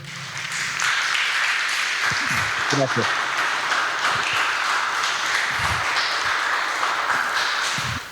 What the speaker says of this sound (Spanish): Una salva de aplausos para él